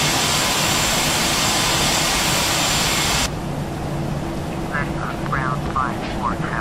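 Aerosoft A321 jet engines in a flight simulator hum with a broad, steady roar while taxiing, then the noise abruptly drops to a quieter engine drone as a voice speaks over it.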